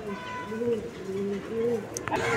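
Maltese pigeons coo in soft, repeated rolling calls close by, with a few faint chirps and background murmur.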